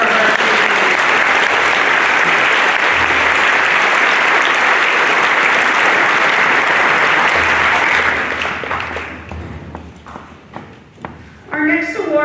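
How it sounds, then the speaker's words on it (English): Loud, sustained audience applause for varsity athletes at a high school class day and senior signing ceremony, dense clapping for about eight seconds before fading into scattered claps, with voices rising at the end. "Please give a round of applause for our varsity."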